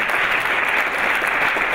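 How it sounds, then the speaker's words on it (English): Dense, steady applause from a keynote discussion audience fills the whole stretch, loud and close, with no gaps or voices standing out. "Give them a big applause"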